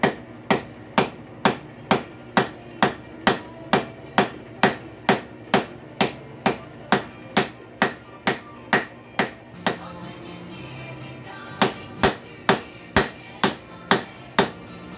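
Steady, evenly spaced hammer blows set a rivet in a rail spike hinge, about two strikes per second for the whole stretch, sharp and close with no talk.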